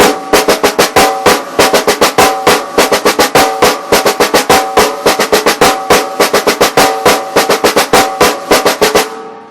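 A drummer plays the six-stroke roll rudiment on a drum, sharp, loud strokes in repeating clustered groups with a steady pulse, ending with a brief silence.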